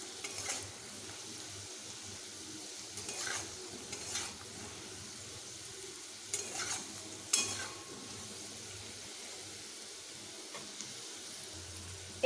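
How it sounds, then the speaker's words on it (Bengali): Potatoes frying in oil until reddish, with a soft steady sizzle and occasional stirring scrapes of a utensil against the pan. "আলুগুলোকে আমি বেশ এইভাবে লাল করে ভেজে নিচ্ছি"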